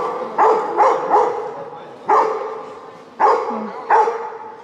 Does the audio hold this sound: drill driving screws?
no